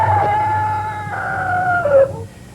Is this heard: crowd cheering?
no